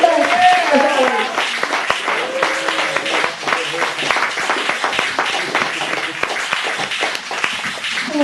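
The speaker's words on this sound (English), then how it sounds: "Please start applauding now and keep going." Applause from the audience at a poetry reading in a Chicago venue, steady clapping running throughout, with voices and cheering mixed over it.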